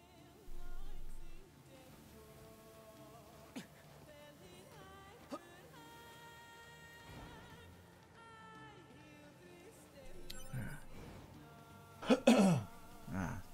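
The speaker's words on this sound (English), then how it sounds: "Damn cough." Coughing from a character in the NieR: Automata video game sounds in a few short bursts near the end, over quiet game background tones and occasional soft clicks.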